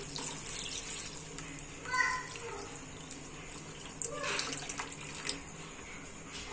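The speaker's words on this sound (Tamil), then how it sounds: "குழம்புக்கு தண்ணி சேர்த்துக்கோங்க." Water is poured into a pot of tamarind kulambu made with sundakkai, a soft splashing stream that swells in short bursts, with quiet background voices.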